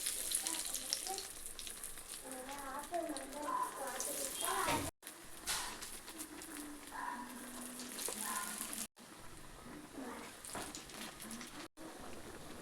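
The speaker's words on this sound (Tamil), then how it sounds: "நம்ம வடையை தட்டி போட்டுடலாம்." Beetroot and yellow split pea vada patties are dropped into hot oil and fry with a bubbling, crackling sizzle. Brief cuts break up the sizzle, and a voice is faintly heard in places.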